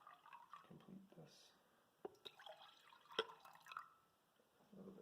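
Water is poured into a glass in a small lab setup, heard as quiet trickles and scattered drips that come in short bursts with pauses between.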